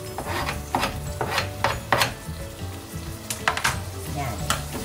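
Canned sliced mushrooms dropped into a hot pan for pasta carbonara, sizzling steadily with repeated scraping and stirring strokes from a spatula, close and fairly loud.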